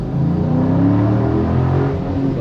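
A 2023 Dodge Charger Super Bee Scat Pack Widebody accelerates hard on an open road, its engine holding a loud, steady roar with a rising growl throughout and no voices.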